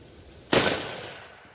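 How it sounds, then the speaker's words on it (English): A single loud rifle shot from a 6.5 Creedmoor with a 16.5-inch barrel firing Hornady 140 grain ammunition, a sharp crack outdoors followed by a long fading echo. "first shots here with the Hornady 140 grain"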